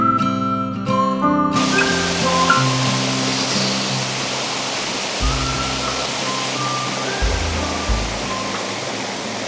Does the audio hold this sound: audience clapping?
no